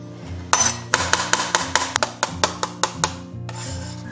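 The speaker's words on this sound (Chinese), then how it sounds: "这个不锈钢的菜板真的是不好拍大蒜" Garlic cloves are smashed with a blade on a stainless steel cutting board, about a dozen sharp metallic whacks in quick irregular succession, close and loud, with no talking.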